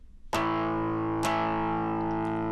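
Two loud distorted electric guitar chords strummed about a second apart, each left ringing with a long sustain and a faint echo.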